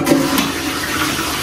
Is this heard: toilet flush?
yes